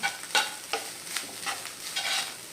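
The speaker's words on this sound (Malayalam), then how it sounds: "നന്നായിട്ടൊന്ന് ഇളക്കി കൊടുക്കുക" A bitter gourd stir-fry is stirred in a hot pan, giving a soft continuous sizzle with several quick, close scraping strokes of a spoon, with no talking.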